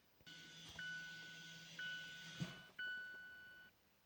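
A 2018 Mazda CX-9 gives a few sustained electronic beeps while its electric parking brake is put into service mode, the tones sounding in steps and stopping cleanly, fairly faint against a quiet background.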